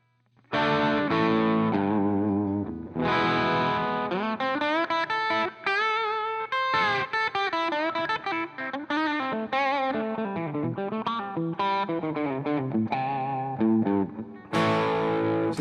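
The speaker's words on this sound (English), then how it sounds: "I will try with a little distortion." An electric guitar is played through light distortion, loud and close, with sustained chords and single-note lines ringing in a continuous phrase and no talking.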